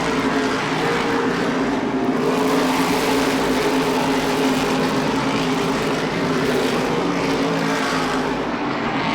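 Race cars roar around Lee USA Speedway in a steady, dense wall of engine noise that stays loud and unbroken throughout, with no talking audible over it.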